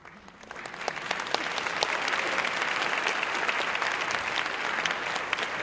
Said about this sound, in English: we're clapping for the other 104, okay?